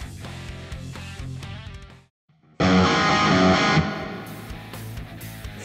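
Heavily distorted electric guitar chords through Blue Cat's Destructor plugin ring out loud, cut to a brief near-silence, then return with a thick, buzzing, saturated tone.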